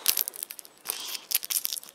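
Close, crackly tearing and crinkling in several short bursts, like tape being ripped from packaging.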